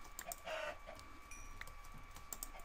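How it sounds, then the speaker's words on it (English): Blocky Minecraft chickens give soft, faint clucks among quiet game ambience, short scattered calls with no talking. "let me get these chickens real quick"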